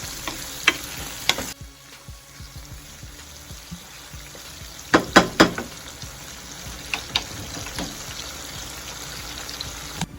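Crab boil sauce with seasoning sizzles and fries steadily in a pan, with a dense crackling bed broken by sharp clicks and clusters of spoon-against-pan stirring knocks. A brief dip in the middle gives way to louder scraping bursts, and no one speaks.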